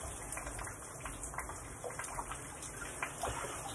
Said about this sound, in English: this thing where I take a bath and shower at the same time is called a rainforest